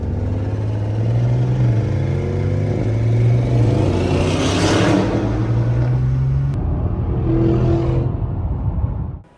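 An Audi RS6 engine idles and revs up several times, kept below 3,000 RPM, the deep exhaust rumble rising and falling, loud and close, before cutting out.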